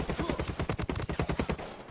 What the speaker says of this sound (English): The 6P41. The hell's the 6P41? The light machine gun.